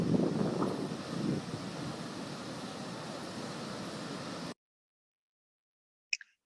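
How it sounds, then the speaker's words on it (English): Steady wind noise in Iceland buffeting the microphone for several seconds, broadband and rushing, then cutting off abruptly to silence before a brief faint blip. "It was windy."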